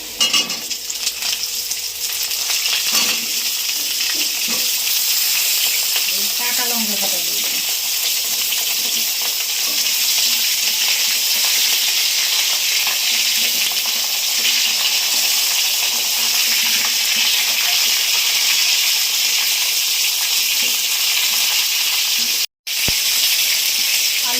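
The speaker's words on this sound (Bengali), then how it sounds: "এবার আমি দেবো এই পটলগুলো" Pointed gourd (potol) fries in oil in a pan for a fish and potato curry, producing a steady, loud, close sizzle and hiss. A brief clatter comes early, and the sound cuts out for a moment near the end.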